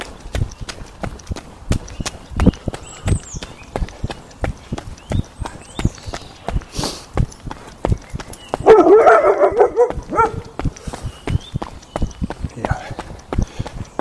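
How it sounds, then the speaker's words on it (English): Farm dog barking near a footpath across a farmer's field in East Sussex, a short burst of barks rising midway over steady rhythmic footsteps of a runner. "That happens to wake up the dog."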